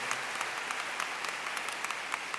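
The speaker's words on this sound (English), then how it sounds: "Let's have one more round of applause for Al Molina" Awards-ceremony audience applauding at the Silver Knight Awards in Miami, a steady, moderately distant wash of many hands clapping with no talk over it.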